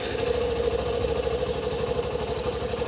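A Hero Passion Pro motorcycle engine runs steadily near the microphone after being started with the clutch, giving a constant rhythmic mechanical chug with no talk over it.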